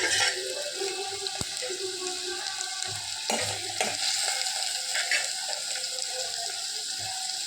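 Steady sizzle of onions, now well softened, sautéing in a pan, with occasional scrapes and taps from stirring, close and continuous.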